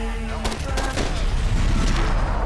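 Rapid gunfire in Max Payne 3 cracks out in a quick burst of close, loud shots and rolls into a dense, busy firefight, with a voice speaking over it.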